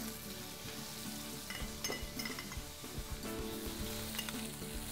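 Mustard seeds sizzle and crackle in hot oil in a pan alongside searing lamb meatballs, with steady frying hiss, scattered sharp pops and occasional stirring scrapes, close up.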